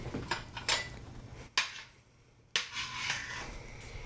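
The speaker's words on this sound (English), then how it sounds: "Now that I have the meatballs in the sauce, I'm going to stir it again." Spoon clanking against a pot while meatballs are stirred into spaghetti sauce, several sharp metallic knocks and scrapes close by, with brief quieter gaps between them.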